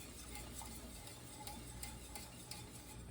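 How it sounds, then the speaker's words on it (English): A whisk works through coconut cream pie filling in a bowl, with soft, quiet scraping strokes that come in a loose, repeating rhythm and no voices. "I personally like to whisk in 2 directions"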